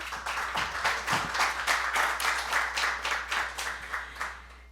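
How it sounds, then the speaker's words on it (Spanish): Audience clapping at a book presentation, a steady patter of many hands at moderate distance that rises briefly and then tapers off toward the end. "Un aplauso"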